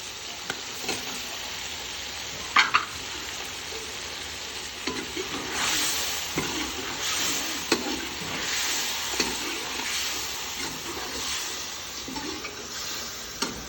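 Chicken sizzling in a pan while being stirred, a continuous frying hiss under repeated scraping and clanking of a spoon, close and steady with occasional louder knocks.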